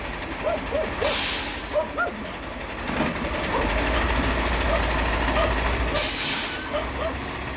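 A sand delivery truck carrying about ten tons lets out two loud bursts of air-brake hiss, with a low engine idling in between at close range.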